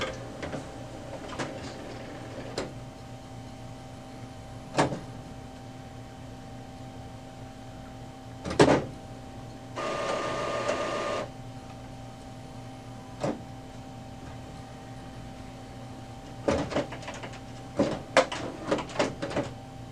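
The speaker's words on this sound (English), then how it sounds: "Now it's going to check the printer." An HP OfficeJet Pro 9018e inkjet printer hums and whirs through a setup check cycle, with scattered clicks and clunks and a short burst of motor noise in the middle, against a quiet room.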